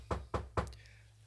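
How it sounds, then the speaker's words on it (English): Three quick knocks on wood, close and fairly loud, evenly spaced and alone, with a faint tail of background sound after. "knock on wood,"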